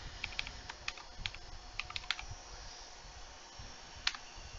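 Keys tapped on a computer keyboard in short bursts of crisp clicks, a cluster of quick strikes followed by a pause and one final isolated keystroke, close up over a quiet room hum.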